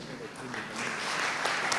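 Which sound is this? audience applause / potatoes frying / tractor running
audience applause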